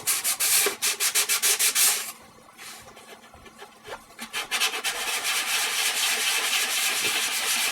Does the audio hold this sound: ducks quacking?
no